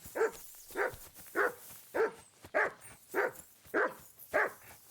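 A dog in the medieval video game Kingdom Come Deliverance 2 barks repeatedly, eight evenly spaced woofs roughly every half second, clear and mid-distance over a quiet background.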